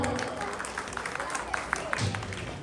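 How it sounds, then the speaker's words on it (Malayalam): An audience claps for a couple of parents, a short patch of scattered applause with some talk over it. "അവർക്കൊരു ക്ലാപ്പ് കൊടുക്കാം."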